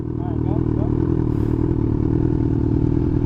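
Yamaha R7 sport motorcycle idling up close, a steady loud engine drone with faint clatter, while a person talks over it.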